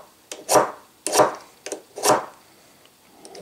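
A knife's magnesium fire-starter rod is scraped in four firm, rasping strokes at a regular pace, each a short gritty burst close to the microphone, with no talking.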